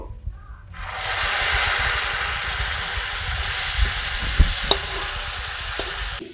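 Mixed vegetable labra with fried coconut sizzles loudly in a hot pan, a steady close-up frying hiss broken by a few soft stirring clunks near the end.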